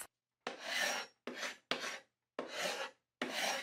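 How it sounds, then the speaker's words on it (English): A carbide scraper rasps sticker residue off a wooden box in five distinct strokes, each a broad, close, dry scrape separated by brief silences, with no talking. "I actually went and grabbed my carbide scraper and just scraped the remaining of the sticker off"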